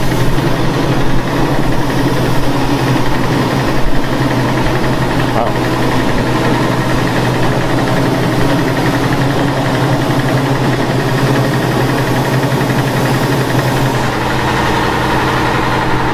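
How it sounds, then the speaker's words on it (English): A rice mill winnower runs continuously as it blows chaff out the back, making a loud, steady mechanical drone with a constant low hum and an even rumble that barely changes. "they're just operating the winnower, the thing that blows the chaff out the back"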